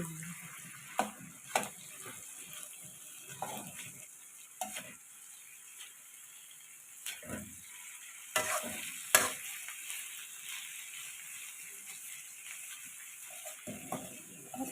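Mixed meat stir-fried with holy basil in a wok: faint, steady sizzling under intermittent scraping strokes of the spatula, quiet and close.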